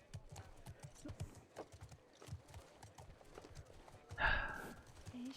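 Horse hooves clip-clop in The Last of Us Part 2, a soft, fairly distant rhythmic patter of steps, with a louder burst near the end.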